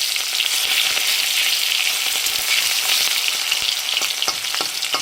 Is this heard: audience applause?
no